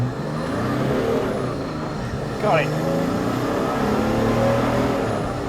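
A steady Mercedes OM606 diesel engine drone inside a Land Rover Defender, holding a constant revving pitch throughout, with a brief spoken remark over it.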